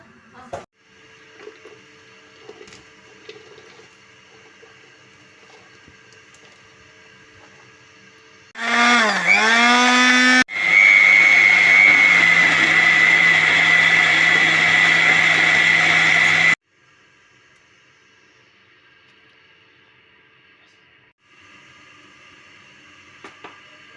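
A kitchen blender whirs loudly for several seconds as ginger is ground into paste, starting with a rising surge, pausing briefly, then running steadily before stopping, with faint kitchen clatter around it.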